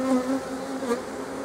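Honeybees buzz steadily and close at an open hive while frames are handled and a beetle trap is fitted, giving a continuous droning hum with no talk.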